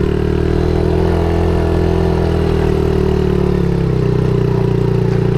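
A Suzuki DRZ 70 dirt bike engine lugs up a hill in too high a gear, a loud, close, low, chugging drone that holds steady throughout without revving up.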